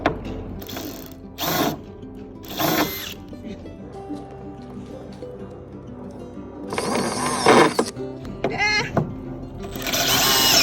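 Power drill driving screws while building a small A-frame structure, with several bursts of whirring spread through the clip and a longer, louder run near the end, plus some faint talk between bursts.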